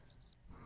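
A cricket chirp sound effect plays three quick, bright, high pulses in a brief, clean burst.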